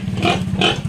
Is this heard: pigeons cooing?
no